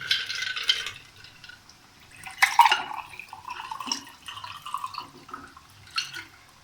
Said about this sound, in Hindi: ठंडा पानी शामिल कर देना है